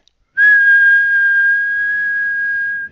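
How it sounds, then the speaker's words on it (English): A person whistles a single steady, clean sine-like tone that starts abruptly, holds at an even pitch for about two and a half seconds, then stops. It is close and clear, with no talking. "Just by whistling, okay?"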